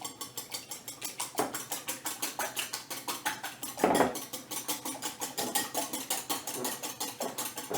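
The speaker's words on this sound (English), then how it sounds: "Alright, 4 eggs is plenty. Whisk them up." Four eggs are whisked in a bowl: quick, regular clicking strokes repeat at an even brisk pace, close up, with one louder knock partway through and no voices.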